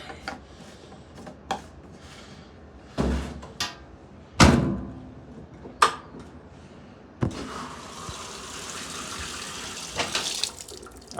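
A new Whirlpool top-loading washer on a hot cycle: scattered clunks and knocks, then water begins rushing in and steadily fills the drum, moderately close.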